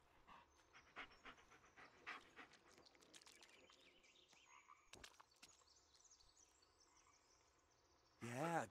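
A dog in the Blair Witch video game pants steadily and quietly, with rapid rhythmic breaths under low ambient game noise, followed by a louder burst of sound at the very end.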